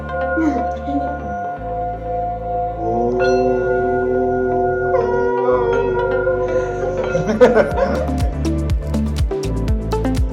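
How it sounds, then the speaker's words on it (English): Sustained metallic ringing tones from singing bowls, layered and humming steadily, with soft struck accents near the end and faint children's voices in the background, on the Everest Base Camp trek in Nepal. "the children had a lesson in singing bowls"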